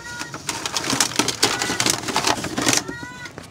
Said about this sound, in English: listen to this bird, listen to this bird